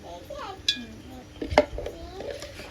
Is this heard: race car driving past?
no